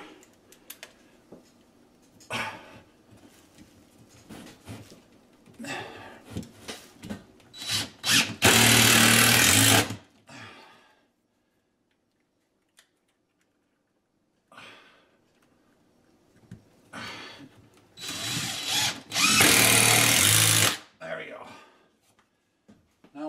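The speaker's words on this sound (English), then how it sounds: "Get my little beastie impact driver here." Impact driver sinking long screws, probably into wood, during a kitchen remodel, in two loud sustained bursts of about two seconds each with quieter tool handling and shuffling before them and a silent gap between.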